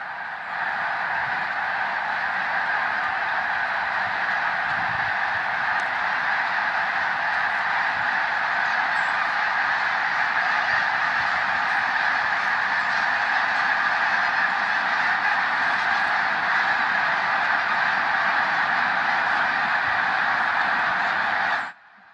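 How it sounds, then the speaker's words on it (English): Wild birds calling at Pocosin Lakes National Wildlife Refuge: a dense, continuous chorus of honking geese and other waterfowl from a large distant flock, unbroken for over twenty seconds with no talking. "and record the birds."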